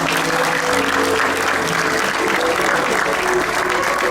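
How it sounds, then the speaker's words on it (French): Sustained applause from an audience at a Senate book presentation ceremony, dense and steady clapping throughout with some faint crowd murmur underneath. "Sous vos acclamations, s'il vous plaît."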